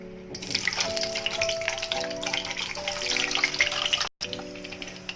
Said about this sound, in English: Add oil, slit the boiled eggs and fry them.